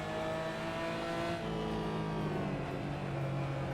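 Race cars in the sim game RaceRoom roar steadily with layered engine whine throughout, revving and shifting pitch as they accelerate, with no voices.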